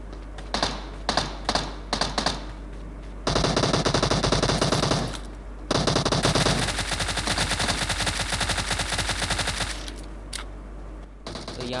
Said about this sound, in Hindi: तो यहाँ मैं उसको फायरिंग देने की कोशिश करता हूँ, लेकिन थॉमसन थी भाई